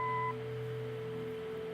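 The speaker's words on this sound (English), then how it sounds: "Leave a message after the beep." Answering machine beep in the Kathy Rain point-and-click detective game: a short electronic tone lasting about a third of a second, followed by a steady low hum of background music.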